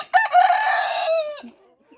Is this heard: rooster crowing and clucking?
yes